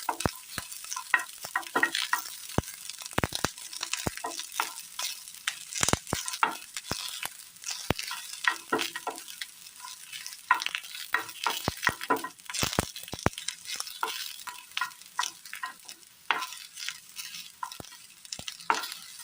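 Vegetables sautéing gently in a pan, a soft continuous crackle broken by frequent scraping stirs, close and fairly quiet, with no talking.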